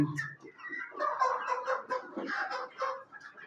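Several hens sick with chronic respiratory disease (CRD), huddled together, cluck and murmur nearby, a busy overlapping chatter with brief pauses, fairly loud and continuous.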